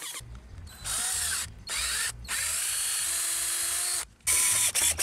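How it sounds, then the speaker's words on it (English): A power drill whirs in several bursts of a second or so each, pre-drilling screw holes in a deck frame, with short pauses between, close and loud, and a low rumbling hum beneath. "In hindsight, I would have rather used screws that didn't require pre-drilling."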